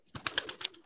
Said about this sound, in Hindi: माशाल्लाह जी बहुत अच्छे सैयद बाकर कबूतर हैं